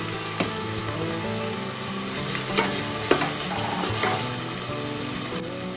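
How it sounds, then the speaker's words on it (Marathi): Chopped green chilies hit a hot masala paste in a pan for chicken biryani, giving a steady, loud sizzle and frying crackle with occasional stirring clicks, no voices. "यामध्ये मिरची कापून घेतलेली आहे मी हे पण टाकून घेऊया"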